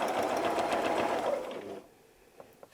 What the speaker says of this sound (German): Unsere Nadel bleibt im Stoff stecken und wir nähen einen kleinen Schwung.